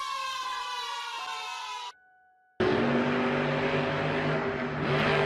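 A police monster truck siren wails steadily and loudly, cuts out briefly, then returns alongside a roaring engine as the truck races across an arena.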